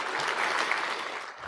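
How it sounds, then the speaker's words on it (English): An audience at an awards event claps steadily in a dense, even burst of applause that fades slightly at the end. "Give yourselves a round of applause."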